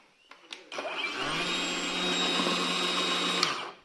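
A cordless battery chainsaw with a 35 cm bar, either a Vitals AKZ 3604a or an Apro BCS-40, clicks on and then runs at a steady, fairly quiet whirring drone for about three seconds before winding down.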